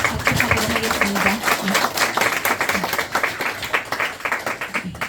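Audience applause fills a national education reform council launch ceremony, a dense, steady clapping crowd sustained throughout with a few voices mixed in.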